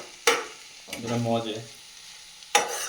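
Chopped spinach stirred into hot oil in a home kitchen pan, with a short crackle of frying, a stretch of clattering and stirring, and a second sharp burst of sizzle near the end; no one speaks.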